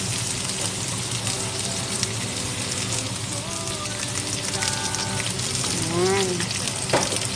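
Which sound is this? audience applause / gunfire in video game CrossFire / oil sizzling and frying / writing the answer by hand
oil sizzling and frying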